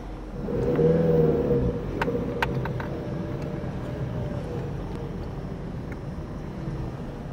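Road traffic in Sicily, a car engine revving and passing close by, loudest early and then settling into a steady drone of moving vehicles, with no voices.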